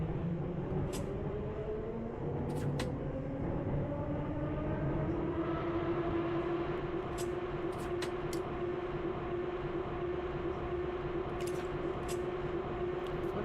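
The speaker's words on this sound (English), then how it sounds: "What about the horrible noise from this train?" A Russian metro train running in Metro Simulator 2 makes a continuous rumbling roll with a rising motor whine that settles into a steady drone, and a few sharp clicks and knocks come through over it.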